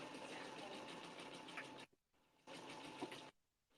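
Embroidery sewing machine stitching across a seam in a quilted project: two bursts of steady, close mechanical whirring with a rapid needle rhythm, separated by a brief near-silent pause, then stopping.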